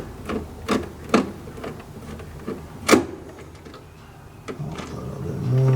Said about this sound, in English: I'm going to unscrew these 4 screws that is holding the bill acceptor in place